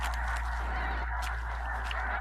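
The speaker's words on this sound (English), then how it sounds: "Over 1 million geese rest up at this Missouri lake on their migrations every year." Huge flock of migrating geese resting at a Missouri lake, a dense mass of honking calls blending into a continuous clamor, steady throughout with no talk.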